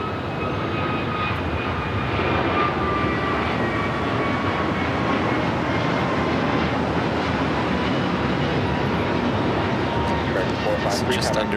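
A heavy airliner on its takeoff roll from runway 25 right at LAX, a broad, steady engine roar that swells and holds throughout, with a tower controller's radio voice heard over it.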